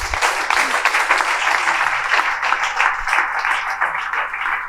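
A church congregation applauds in a steady, dense wash of clapping that stays loud and even from start to finish.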